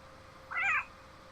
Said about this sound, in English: I heard a cat too.